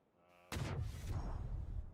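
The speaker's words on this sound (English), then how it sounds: "Oh, Haven, good nade." A grenade blows up in an online shooter game, one sudden loud blast with a rumbling tail that fades over about a second.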